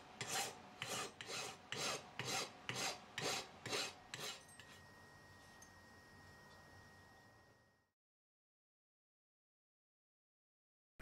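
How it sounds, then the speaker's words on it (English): A hand file rasps across a steel flange, eight or nine evenly spaced strokes in a regular rhythm, then a brief quieter stretch of background before silence. "using some hardened silver steel buttons and file it to shape"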